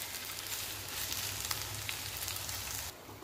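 Okra (bhindi) fries in oil in a kadhai, giving a soft, steady sizzle with faint crackles that continues evenly before ending abruptly.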